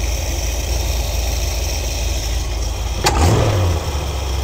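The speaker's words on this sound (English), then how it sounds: "Flip the throttle every now and again, let it resettle itself." A 1973 Ford Econoline engine fitted with an Edelbrock carburetor idles steadily up close, then a quick blip of the throttle makes it rev up sharply and fall back to idle.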